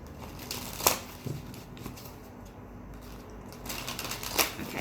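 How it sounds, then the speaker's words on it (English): Close-up riffling and shuffling of a deck of tarot cards, crisp papery bursts coming in quick flurries with short pauses between. "I know that was a really big shuffle, guys."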